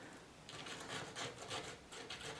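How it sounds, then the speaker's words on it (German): Fingers rubbing damp granulate across a surface while texturing a rust-effect background, a soft gritty scraping in several close, quiet strokes. "das feuchte Granulat, und treibe das über die Oberfläche"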